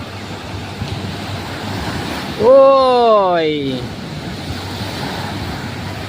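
Ocean waves wash onto a crowded beach in a steady, windy roar, with a voice calling out a short drawn-out shout midway.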